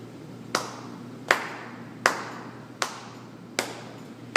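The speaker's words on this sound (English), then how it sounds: "go ahead, clap it" An audience in a music-teaching session claps along with a metronome, giving six sharp, evenly spaced single claps at a steady pulse, with a quiet background between beats.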